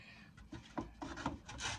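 A vegetable is grated by hand on a grater in a home kitchen, giving a series of short, close rasping strokes in an uneven rhythm, about six scrapes in quick succession.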